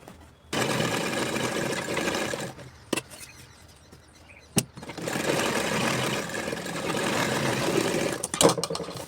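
Sewing machine running as it stitches cloth while making a back-neck suit design, loud steady whirring bursts broken by a short pause and a few sharp clicks, no talk.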